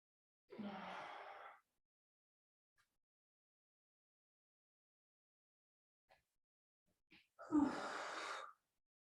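Two deep breaths during a yoga flow, a long exhale near the start and another sharp inhale and breathy exhale near the end, close and fairly quiet with silence between.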